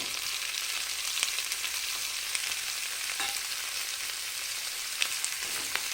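Eggplant pieces fry with green chillies in a pan, a steady hissing sizzle of moderate loudness with a few faint clicks of stirring, no voices.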